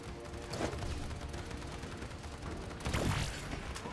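Gunfire in the team shooter video game Paladins, a dense mechanical burst of shots and clanking effects running steadily with a louder flurry toward the end.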